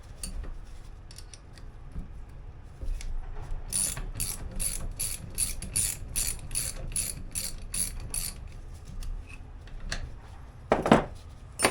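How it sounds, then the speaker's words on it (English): A 22 mm wrench with a pass-through ratchet turning on a front inverted Raceworks GZ coilover, giving quick runs of close, crisp ratchet clicks in steady bursts, with a louder metallic rattle near the end. "this 22 is just the wrench that goes with the pass-through"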